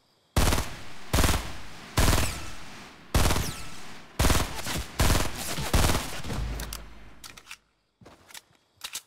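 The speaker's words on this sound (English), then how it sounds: "it's time for the burst AR rifle." A real-life rifle modeled on the Fortnite burst assault rifle fires about eight loud, sharp bursts at a steady pace of roughly one per second, followed by a few scattered quieter shots, with no talking.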